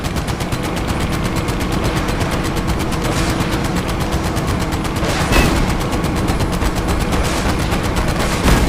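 Continuous loud machine-gun fire in the VR video game Medal of Honor Above and Beyond, a dense rapid rattle with steady rhythm throughout and no pauses.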